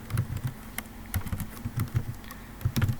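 Typing on a computer keyboard while entering text into a GIS field calculator, a steady close patter of individual key clicks in quick irregular bursts, with no talking over it.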